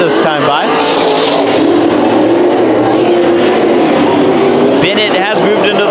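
Race cars roar around the track during a heat race at Bakersfield Speedway, with loud, continuous engine noise and a rising pass near the end, under an announcer calling the race over the PA.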